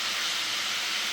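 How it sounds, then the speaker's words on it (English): Hot food in glass jars sizzles with a steady, close, soft hiss, heard alone for about a second. "you can hear it, it's still just sizzling down."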